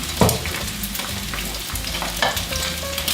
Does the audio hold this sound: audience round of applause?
no